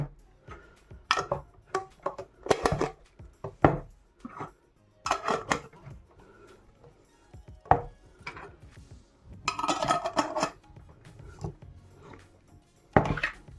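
Lids are screwed onto glass jars of spicy Thai-style cucumbers, giving a series of close, irregular clicks, clinks and scraping twists separated by short pauses, with no talk.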